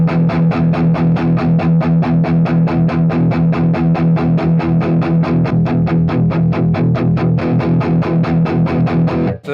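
Heavily distorted electric guitar, run through a distortion pedal into an amp, chugs in a fast, steady rhythm, thick and saturated, playing continuously and loud with no voices.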